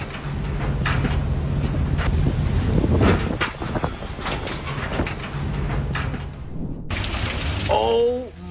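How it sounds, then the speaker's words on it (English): Storm Otto's wind roars in a steady, loud rush over the North Sea, with waves crashing beneath the gusts, before the noise cuts off abruptly. "Storm Otto roars across the North Sea. Ships sway violently between towering waves and howling gusts"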